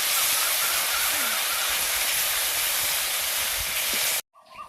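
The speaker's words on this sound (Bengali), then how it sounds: "এবার দেবো লঙ্কা বাটা, এবার এগুলো একটু কষে নেবো একসঙ্গে" Coriander-cumin paste and chili paste fry in hot oil for a fish curry, giving a loud, steady broadband hiss that holds evenly for about four seconds and then cuts off sharply.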